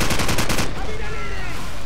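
Dense, loud bursts of automatic gunfire rattle continuously, then give way to a sustained roar and ringing wash of battle in a Call of Duty 4: Modern Warfare street firefight.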